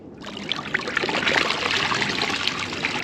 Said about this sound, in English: I'm going to wash this material out into my gold pan.